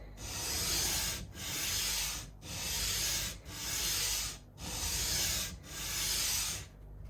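A guitar nut is sanded flat on a Yamaha FG365 SII acoustic, with six steady rasping strokes separated by brief pauses, close and fairly loud, with no voices.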